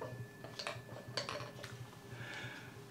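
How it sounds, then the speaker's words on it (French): A lid set onto a pot gives a few light metallic clinks and taps, quiet and close, followed by a faint lingering ring. "Je mets le couvercle."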